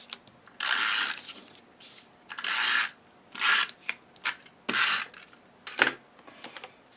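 Adhesive rubbed onto the back of a dried card panel: repeated scratchy rubbing strokes in bursts of about half a second to a second, close and fairly loud, with short pauses between and no talking.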